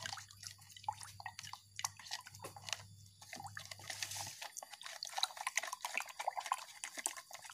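Liquid fermentation mix with sugar being stirred: quiet, irregular wet sloshing and clinking with dripping, a steady low hum under the first half, and no speech.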